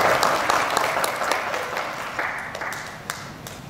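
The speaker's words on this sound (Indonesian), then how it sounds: "Sekali lagi tepuk tangan untuk teman-teman Kemendikbud." An audience applauding at a cultural oration event in Karawang, a dense, steady wash of clapping that gradually fades, with no clear talk over it.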